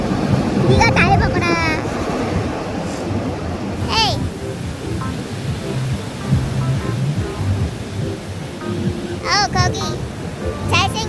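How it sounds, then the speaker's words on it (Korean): Strong surf rolls continuously at Seminyak beach in Bali, a loud broadband wash of breaking waves filling the whole stretch, with occasional voices and brief whistling or calls over it. "이것은 스미냐 비치 파도가 엄청 세"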